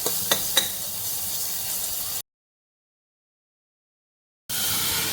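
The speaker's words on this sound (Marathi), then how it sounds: "कढईत तेल गरम करून जिरे आणि हिंग टाकला आहे। मग आलं लसणाची पेस्ट घालून परतून घ्यायचं।" Ginger garlic paste sautés in hot oil with cumin and asafoetida, a soft steady sizzle with a few light clicks of stirring at the start, cut by a couple of seconds of total silence before the frying hiss resumes.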